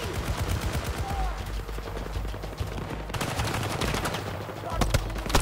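Rapid automatic gunfire from a shooter video game, assault rifle and minigun bursts crackling loud and continuous with dense repeated shots throughout.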